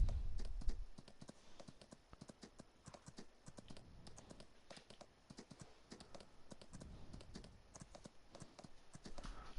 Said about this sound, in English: We'll get some exercise here on the horse